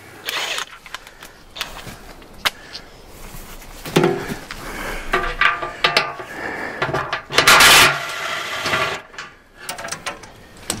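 An air ratchet works on bolts during the recovery of a water-filled skidder, giving repeated loud, rattling mechanical bursts with metallic clanks between them, close by and outdoors.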